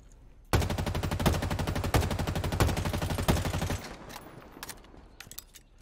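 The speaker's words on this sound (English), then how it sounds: "every second or so, I'm just going to quickly let go of the trigger and then re-engage to do a series of burst shots" Assault rifle fire in a video game, loud rapid shots in a run of short bursts with brief pauses, then quieter scattered echoes as the firing stops.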